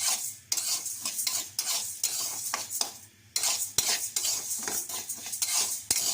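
Food frying in a pan until lightly browned, a steady close sizzle broken by repeated loud scrapes and clinks of a metal spatula stirring against the pan.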